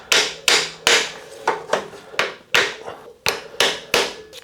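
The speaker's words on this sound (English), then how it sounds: "I'm going to hammer this back with an actual hammer" Sharp metallic hammer blows strike a stuck carbon bicycle seatpost in a steady rhythm, about ten hits, each ringing briefly before the next.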